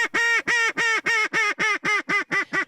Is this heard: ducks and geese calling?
yes